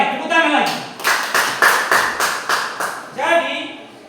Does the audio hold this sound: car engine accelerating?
no